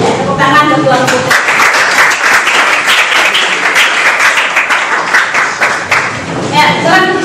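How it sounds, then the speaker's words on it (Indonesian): An audience claps in a dense, sustained burst at a school teaching-practice event, with voices and speech over the applause at the start and end. "Tepuk tangan untuk Tuan Putri."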